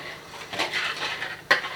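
A whisk clinks and scrapes against a bowl while dry gelatin is mixed into water, light rattling strokes ending in one sharp metallic tap near the end.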